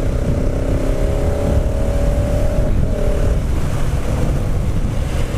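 A KTM 690 Supermoto motorcycle is ridden at speed, its engine tone held steady for a few seconds under heavy wind rush before it fades back into the roar.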